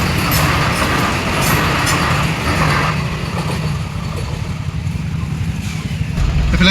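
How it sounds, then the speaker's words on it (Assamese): A Vande Bharat express train passes close by, giving a loud, steady rumble of wheels and carriages that keeps up for the whole stretch with little change. "এইফালে দেখা পালোঁ বন্দে ভাৰত ট্ৰেইন এখন এয়া আগেদি গৈ আছে"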